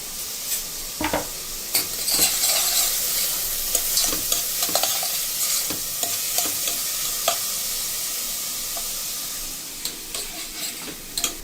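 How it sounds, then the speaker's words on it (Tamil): Onions sautéing in a pan, a bright steady sizzle with scattered scrapes and taps of the spatula as they are stirred and turned, close and without talk. "வெங்காயம் வதக்கிடலாம்"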